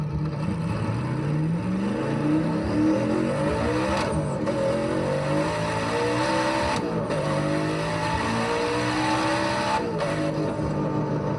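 A car launches at full throttle in first gear, its engine revving hard and climbing in pitch with quick shifts, loud and close throughout with some tire spin.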